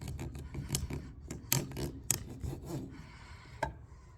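Scissors trimming the nipple-shaped tip off the end of a handmade blow gun dart, heard as a series of short, close, raspy snips and rubbing scrapes at an uneven rhythm, with no talking.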